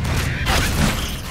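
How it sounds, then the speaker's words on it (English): A gun being reloaded in the zombie shooter Left 4 Dead 2: a brief metallic clack and creak of the weapon's action, close and clear, with no talk. "I'm reloading."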